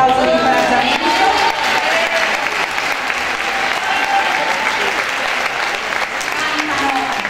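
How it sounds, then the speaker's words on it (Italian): Audience applauding to encourage a children's choir at a chorus contest, sustained loud clapping from a large crowd with some cheering and a voice briefly heard under the noise, steady for over seven seconds. "fate un grande applauso di incoraggiamento"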